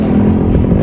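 Stock motorcycle engine with original exhaust revving hard, a loud, close, throaty roar with a rising pitch in a brief burst.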